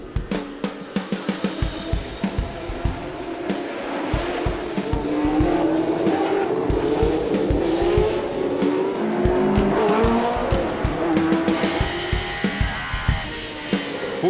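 Historic Formula race cars from 1977 to 1980 racing around the Monaco Grand Prix street circuit, loud engines howling and rising and falling as they pass close by, with occasional tire squeals. Nobody speaks.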